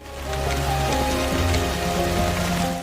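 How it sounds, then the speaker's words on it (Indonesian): Heavy rain pours steadily on a forest, a dense continuous hiss with a low rumbling undertone that holds at an even, close loudness throughout. "tiba-tiba turun hujan lebat"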